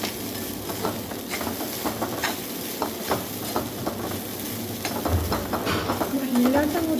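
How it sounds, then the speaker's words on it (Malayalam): Grated coconut frying in a pan for a chammanthi, with a steady background sizzle broken by repeated scraping stirs and a few scattered clinks, growing slightly louder toward the end. "അതൊന്ന് ഫ്രൈ ചെയ്തെടുക്കണം."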